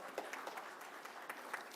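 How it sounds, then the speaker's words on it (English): Audience applause for two speakers at an ICSI professional session, a quiet, steady patter of clapping filling the short moment, fairly faint and distant with scattered sharper claps. "give a big round of applause to both the speakers"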